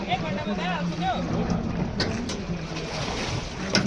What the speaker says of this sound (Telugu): మేము బోట్ షికార్ చేస్తున్నాం అందరం కలిపి